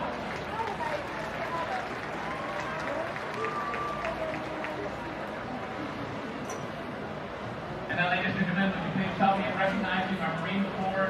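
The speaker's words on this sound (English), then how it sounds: "And now, ladies and gentlemen, a big round of applause for our planning classes" A high school football stadium crowd applauds across a steady, moderate wash of clapping and cheering, swelling louder near the end while an announcer speaks over the PA.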